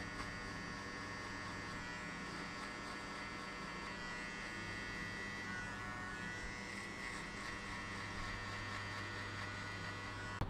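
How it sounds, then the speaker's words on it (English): An electric shaver buzzes steadily and close during a mid skin fade buzz cut, shaving hair below the guideline, with a continuous tonal hum and no talk. "Now use your shaver to shave everything off, just below the guideline."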